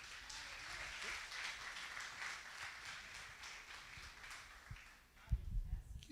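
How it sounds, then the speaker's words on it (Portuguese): A church congregation applauds in a soft, distant patter of clapping that is spread across the room and low in level. A few louder thumps and bumps come near the end. "Aplauda o Senhor, por favor."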